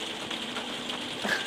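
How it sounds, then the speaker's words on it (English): Steady rain in the video game No Man's Sky, a continuous broadband patter and hiss with faint scattered drop ticks, alone and moderately quiet throughout. "I can hear the rain."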